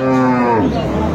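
A short, close moo from a cow with her calf, loud and low, heard on its own.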